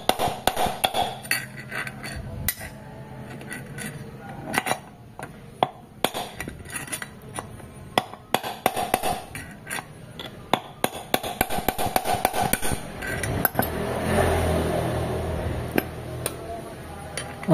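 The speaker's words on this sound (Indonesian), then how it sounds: "Kita dorong, terus kita ketok pakai palu guys." A hammer taps a CVT bearing on a Honda Beat carbureted scooter into place, driven with a T-wrench, giving many sharp, irregular metallic knocks at moderate distance over steady workshop background noise.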